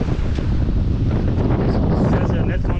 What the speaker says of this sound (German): du musst lauter sprechen bei dem Wind